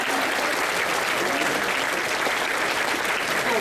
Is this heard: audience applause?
yes